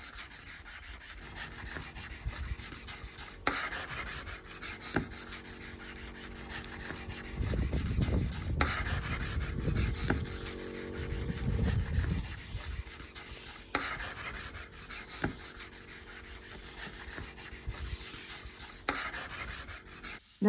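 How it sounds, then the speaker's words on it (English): Steady abrasive rubbing of sanding on a rusty metal van roof, continuous scraping strokes with a few louder bursts, moderately close and fairly quiet, with no talk. "Then sanding and putting several layers of rust protection"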